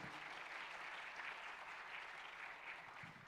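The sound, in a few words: audience applause for panelists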